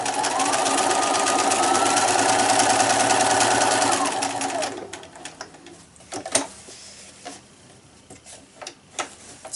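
Sewing machine stitching stiff fabric for a gift wine bag, a steady loud motor whir for about four seconds, then stopping, followed by scattered faint ticks and clicks of handling.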